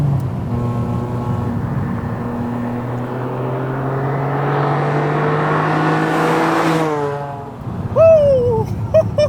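A naturally aspirated BMW Z4 M Coupe with the S54 engine pulls hard through the gears, its engine note rising steadily and loud from inside the cabin before a quick shift drop and a brief voice at the end.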